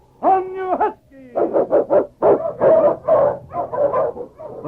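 Eskimo husky lead dog barking in a radio drama set in the Yukon: a string of sharp, loud barks and yips in quick bursts, with a whine-like howl at the start, close and up front without talk.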